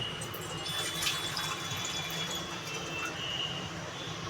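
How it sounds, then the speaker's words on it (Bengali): Water poured into a pot of shukto, a Bengali mixed-vegetable curry, giving a steady, close rushing splash that holds evenly throughout with no voices. "আর এই যে সামান্য একটু জল দিয়ে দেবো"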